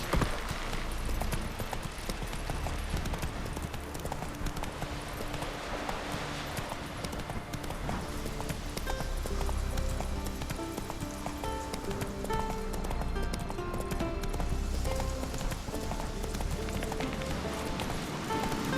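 Hoofbeats of Roach, a horse galloping in The Witcher 3: Wild Hunt on PS4, pound steadily throughout under a dense, loud layer of game music and ambience.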